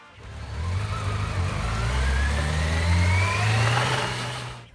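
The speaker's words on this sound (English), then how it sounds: "Number 9, the Yamaha" A 1985 Yamaha FZ750 sport bike with a 749 cc five-valve inline-four engine revs up steadily, a loud, close, sustained mechanical roar rising in pitch and holding before easing off at the end.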